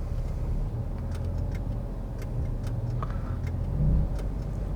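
A 2020 Land Rover Defender crawling slowly over rocks off-road, a low steady engine rumble heard from inside with faint intermittent clicks and knocks, close and continuous.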